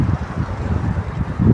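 Strong wind gusting outdoors, a steady low roar of buffeting microphone rumble that rises and falls, with a heavier gust near the end and no talk.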